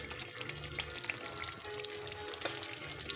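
Fresh herbs being stirred into a simmering Greek tomato beef stew (moscharaki kokinisto), giving a steady bubbling sizzle with soft scraping stir sounds throughout, close and fairly loud, with no talking.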